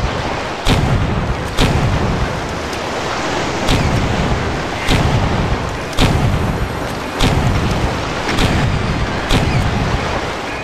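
Cannons fire in the pirate game Pirate Doom as a regular run of about ten sharp booms, roughly one a second, over a constant roaring, sea-like background.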